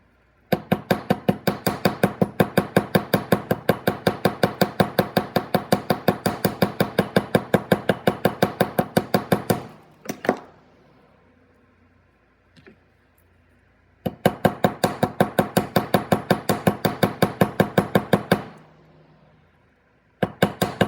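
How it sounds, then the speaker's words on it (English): Rapid, steady metallic chasing hammer taps texturing wire for a bangle in long even bursts, pausing briefly in between, close and sharp. "just flat hammered here with our chasing hammer, and now we're texturing the wire."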